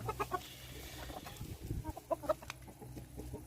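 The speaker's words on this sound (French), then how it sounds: "là en ce moment où il y a les poules Brahma, là, donc les grandes poules Brahma" Large Brahma hens in a farm pen making soft, scattered clucks and short throaty calls, faint and close against a low background hum, a few separate bursts over a few seconds with no talk.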